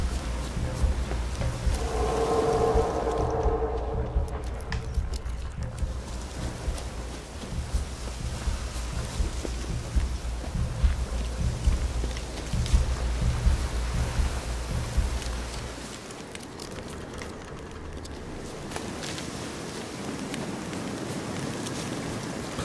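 Rain falls in The Witcher 3 video game, a continuous soft hiss of drops that swells briefly and settles into a steady wash, with no talking.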